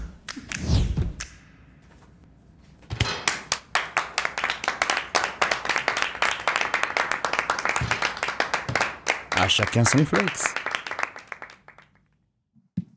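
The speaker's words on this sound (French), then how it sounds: "Moi, j'applaudis pour le porte-manteau pliable." People clap and thump in celebration of a foldable coat rack, a burst of loud, fast, uneven applause with knocks and taps, a brief spoken line at the start and fading at the end.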